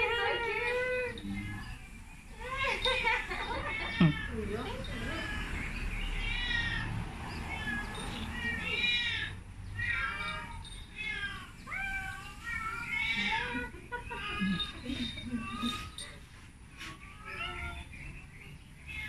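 Rescued cats and kittens meow over and over, several overlapping high-pitched cries close by, some drawn-out and wailing, with faint voices in the background.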